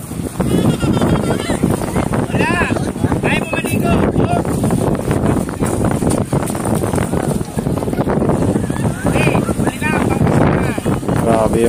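Strong wind at Manila Bay roars steadily into the microphone throughout, loud and close, with people talking underneath in a crowded area.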